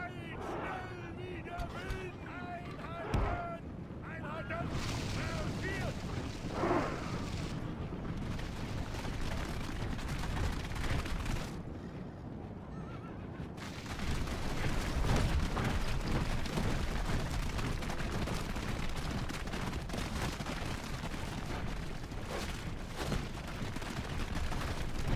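Towers fire on troops during a battle in the video game Medieval 2 Total War, with a continuous din of shots, impacts and battle noise that dips and surges, and someone talks over it at times.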